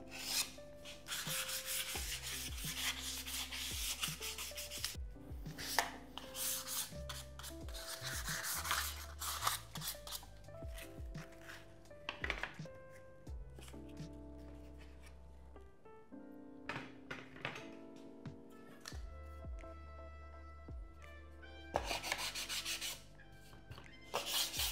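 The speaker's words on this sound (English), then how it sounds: "I've even got a little roll here of 400, which is even finer. And it's just going to take the burrs off the edges." A small roll of 400-grit sandpaper rubbing burrs off drilled edges on F/A-18 cockpit parts: repeated close scraping strokes in uneven bursts, with brief pauses and the odd clatter of handling between them.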